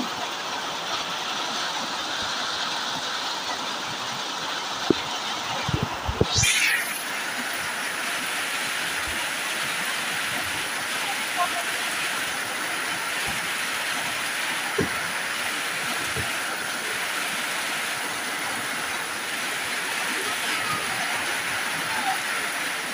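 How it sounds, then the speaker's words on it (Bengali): Steady daytime rain pours down outdoors onto trees and garden plants, a dense even hiss throughout with a few brief knocks near the start. "হঠাৎ করে বৃষ্টি আসলো এই তো সকাল 10টার সময় থেকে বৃষ্টি শুরু হলো।"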